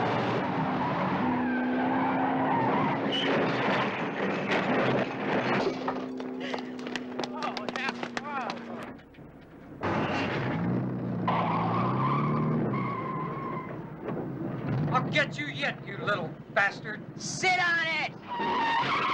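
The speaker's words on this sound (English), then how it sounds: "it's just a couple of guys in a van racing for time" '74 Dodge Tradesman van drag racing, tires skidding and squealing over a roaring engine, loud and close, with a break before more screeching and voices talking over it.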